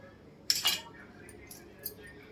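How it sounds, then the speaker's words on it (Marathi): A knife slicing through bread for Marathi bread batata pakoda on a plate, giving two quick close scraping clinks in a row followed by softer faint taps in a quiet kitchen. "आता याला आणि याला मधून परत कट करूया."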